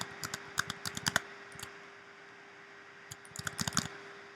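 Quiet clicking keystrokes on a computer keyboard come in two short bursts with a pause between, close and crisp over faint room hum.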